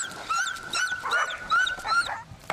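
A dog barks and yips excitedly in a rapid, uneven series of close, loud calls with whining between them, reacting aggressively to a skateboard.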